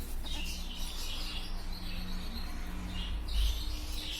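A flock of Bengalese finches at a bird shop keeps up busy, overlapping high chirps over a constant low background hum.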